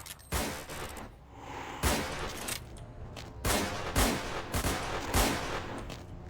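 Gunfire aimed at zombies in a video game cracks out in a run of loud, separate shots, roughly one a second with small gaps between them, fired close by and with hardly any talk.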